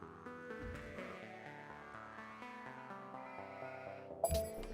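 In the Civilization 5 video game, a sheep gives a short bleat near the end, heard after a stretch of soft, sustained background game music.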